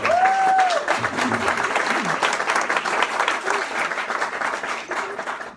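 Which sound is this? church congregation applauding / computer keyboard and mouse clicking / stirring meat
church congregation applauding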